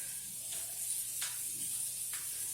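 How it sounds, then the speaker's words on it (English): Thin chicken fillets coated in cornstarch sizzle softly in a frying pan, a steady quiet hiss with a few brighter crackling bursts, heard alone without talk. "There, that's a nice sizzle."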